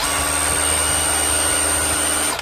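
A steady, loud mechanical drone of a power tool running continuously with a rough, buzzing hammering texture, then cutting off abruptly at the end.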